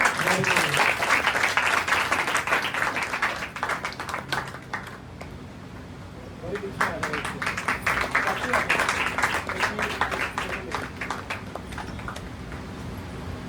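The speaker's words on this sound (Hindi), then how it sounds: "इसलिए जोरदार ताली बजाइए" Audience applause at a school farewell and open day, a loud burst of clapping that dips midway and swells again, with voices mixed in.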